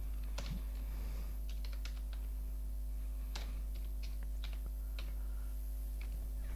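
Sparse, quiet keystrokes tap on a computer keyboard while marks are entered into an Excel sheet, single clicks spaced unevenly over a steady low electrical hum, with no speech.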